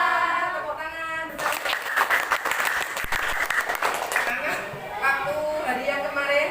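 Classroom of young pupils clapping hands in unison, a brisk burst of rhythmic claps mixed with children's voices and chatter.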